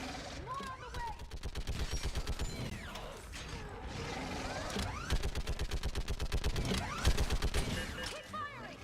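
Rapid automatic gunfire from the Mass Effect video game rattles in long rhythmic bursts, backed by mechanical clanks and whooshing effects. Shouted combat voices come in briefly.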